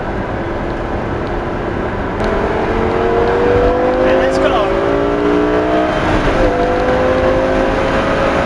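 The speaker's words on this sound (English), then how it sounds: "to be driving a 560 brake horsepower Lamborghini" Lamborghini LP560 Spyder with a 560 brake horsepower engine driving, a steady loud cabin drone with rising engine tones sweeping upward, continuous and close throughout.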